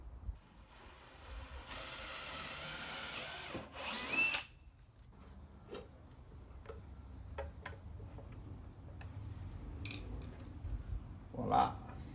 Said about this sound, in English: how I'm going to drill it out